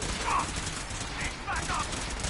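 Gunfire in the Fallout 4 video game, a faint, muffled burst of shots heard at a distance under a low, indistinct voice.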